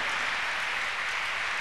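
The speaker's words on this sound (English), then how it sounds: "Clap your hands unto God of choosing." A church congregation claps their hands in praise, a dense, steady wash of clapping filling the whole short stretch at close range with no voices over it.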